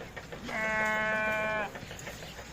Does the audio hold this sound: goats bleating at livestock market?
yes